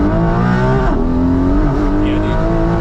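A Porsche 718 GT4 sports car accelerating hard on a freeway, its engine roaring loud and close with rising harmonic pitch that dips at a gear change around one second, then climbs again.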